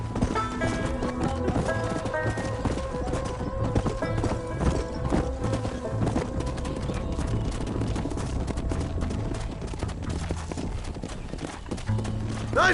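Hooves clip-clop in a fast, steady gallop from the video game Red Dead Redemption, running without a break beneath a sustained musical score, with no one speaking.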